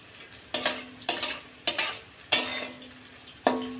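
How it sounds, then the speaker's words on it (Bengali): Bitter gourd and potatoes fry in a pan under a soft sizzle, with a spatula striking and scraping the pan in a regular rhythm about every half second. "উচ্ছে আলু ভাজাটা প্রায় হয়েই এসছে"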